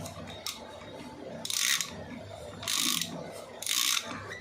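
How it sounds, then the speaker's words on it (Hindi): A ratchet tightens a 17 mm bolt on the magneto of a Hero HF Deluxe engine, giving three short bursts of close, crisp clicking over quiet workshop background. "और इसका ये बोल्ट है 17 नंबर का, ये लगेगा, इसको कस लेंगे अच्छे से।"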